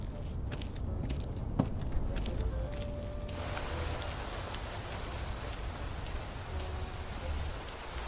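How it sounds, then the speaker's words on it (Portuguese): Steady rain falls at night beside an outdoor water fountain, a dense broadband hiss that turns louder and fuller about three seconds in. Scattered close ticks and taps sit over it, with no talking. "Noite, dia de chuva e uma fonte de água."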